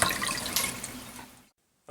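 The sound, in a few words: hot water running from a tap to purge air from lines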